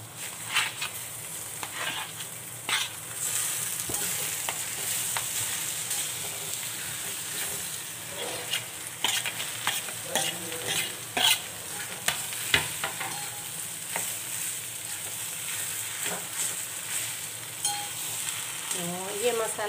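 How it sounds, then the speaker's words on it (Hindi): Spice mix being stirred with boiled potatoes in a hot pan for bread pakora filling, a steady sizzle with repeated scraping and clacking spoon strokes close up. "ये मसाला हम अच्छे से मिक्स कर देंगे"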